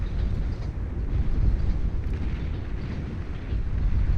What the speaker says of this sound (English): launching those torpedoes out of the one-eyed port there of these Puffin gunships